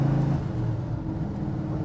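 A 1967 Ford F100 pickup truck cruises steadily from inside the cab, its engine a low, even drone with a faint hum of road noise and no talking.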